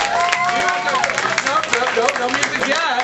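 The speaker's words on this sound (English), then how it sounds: "how about a big round of applause for all of our bachelors?" Audience applause and cheering for the bachelors at a live dating-game comedy show, a steady roar of clapping with crowd noise throughout.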